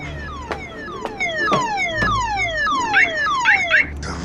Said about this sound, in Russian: Да ё-моё. Сигнализация у тебя классная,